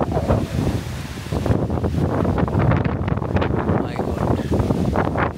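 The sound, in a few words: strong wind blowing at a maize field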